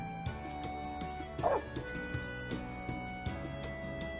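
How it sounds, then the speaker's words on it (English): Dog yips and whimpers in a video game, a short, fairly close burst of canine sound rising briefly over a steady background of game music and ambience. "What is Aaron doing to that poor dog?"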